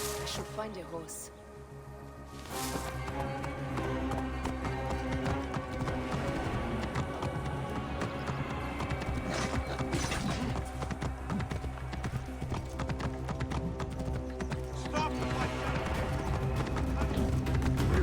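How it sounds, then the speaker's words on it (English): Hooves of a horse galloping in Assassin's Creed Origins, a fast steady clip-clop over game music, with an occasional whinny and a character's voice speaking at times. "should find a horse."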